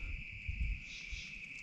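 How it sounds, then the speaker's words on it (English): Katydids and crickets in a forest at night, a steady high-pitched trill under low rumbling background noise, distant and faint. "Katydids, crickets."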